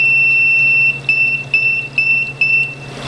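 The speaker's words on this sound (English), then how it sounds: "You can see the timer's about ready to go off." A 60-second timer goes off with a series of sharp, high-pitched electronic beeps repeating about every half second, loud and close, following a steady tone and a low background hum.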